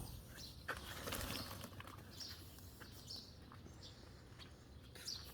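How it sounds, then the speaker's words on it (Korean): Small birds chirp and tweet in a home vegetable garden during the summer rainy season, brief high calls scattered at moderate distance over steady outdoor background noise, with some fluttering. "오늘따라 저희 집 정원 텃밭에 새들이 차라와가지고 좀 소리가 많이 내고 있네요."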